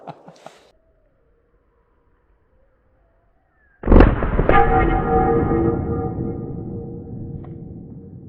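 .44 Magnum revolver fired double action at a steel plate outdoors: after a quiet pause, a single sharp loud blast rings out, followed by a long metallic ringing decay from the struck plate.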